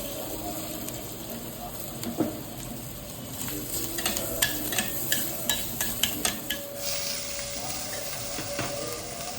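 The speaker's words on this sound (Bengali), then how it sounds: "তেলের মধ্যে দিয়ে দিচ্ছি এই যে রসুন থেতো করে রেখেছি" Crushed garlic frying in oil at the start of a greens stir-fry, giving a steady close sizzle broken by a run of sharp scraping and clicking stirs in the middle.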